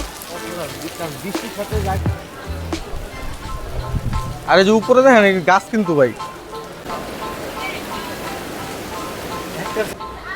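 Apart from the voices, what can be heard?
rain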